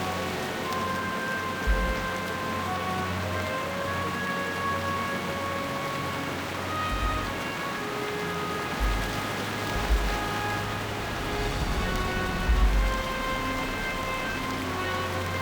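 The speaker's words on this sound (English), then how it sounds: "Where it is raining quite heavily." Heavy rain falls in World of Warcraft, a steady dense hiss of raindrops with soft low rumbles and faint tonal game ambience underneath, continuous throughout.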